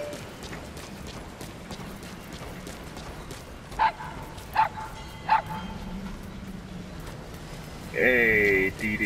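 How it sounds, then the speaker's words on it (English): A puppy in Metal Gear Solid V: The Phantom Pain gives three short, sharp yips spaced under a second apart over low game ambience, followed by a voice speaking. "Yeah, that's a cute little pooch."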